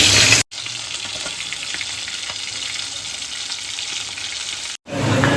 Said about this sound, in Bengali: এবার শুনতে পাবে মাছ ভাজা বসিয়েছি